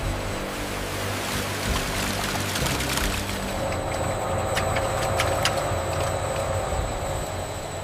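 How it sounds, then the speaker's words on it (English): Water pours and rushes into large industrial washing drums with softeners as fabric goes in, a steady loud churning roar with faint metallic clinks and ticks partway through. "Fabric enters large industrial washing drums filled with water and eco-friendly softeners."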